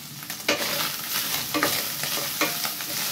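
Beef sizzles steadily in a hot pan as it browns, with a few scraping stirs breaking through the constant frying hiss.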